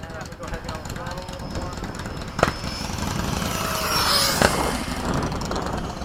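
An RC model jet aircraft engine, flown in a formation of scale jets like an F/A-18, F-4 and Mirage, holds a steady whine and slowly builds as the throttle opens, with two sharp clicks and people talking over it.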